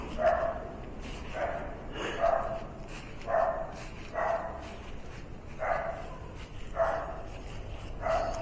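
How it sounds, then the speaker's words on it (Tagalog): A dog barks steadily outdoors, about seven evenly spaced barks at moderate distance, each ringing clearly over a soft background hiss. "Maingay ang aso."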